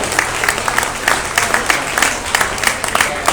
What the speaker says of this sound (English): Let's give him a big round of applause, too, for all his help.